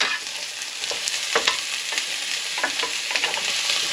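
Onions cooking in olive oil in a pan sizzle steadily and loudly, with occasional scraping stirs cutting through the continuous frying hiss; no voices are heard.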